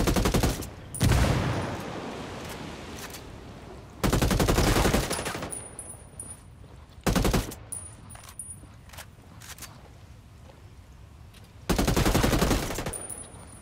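Heavy automatic gunfire in Ghost Recon Wildlands comes in several loud, dense bursts with quieter scattered shots and clinking shell casings between them.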